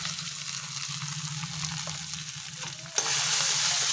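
Fish spices with turmeric, salt and chili paste sautéing in hot oil make a close, loud, continuous sizzle with stirring scrapes, the frying swelling sharply brighter near the end.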